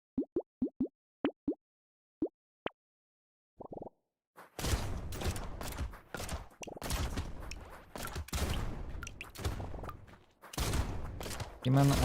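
Chunky shotgun blasts from the Brotato video game, several sharp shots at first spaced apart, then a dense, loud barrage of rapid overlapping gunfire and impacts with game effects, with a voice talking over it.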